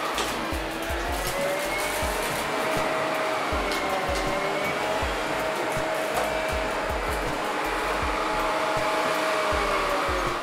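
A steady, loud whirring motor hum from an Ecovacs Deebot Ozmo 900 robot vacuum cleaner runs continuously and close, with a faint whine riding over the broadband drone.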